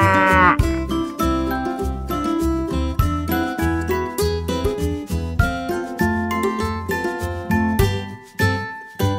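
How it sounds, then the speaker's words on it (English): A Simmental cow and calf moo over a steady backdrop of bright, plinking music, the lowing calls rising briefly amid the repeating tune. "Simmental calf"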